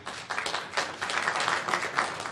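Applause at a town hall meeting, a moderate crowd clapping with distinct, rapid claps rising after a brief quieter start and continuing evenly, heard from some distance.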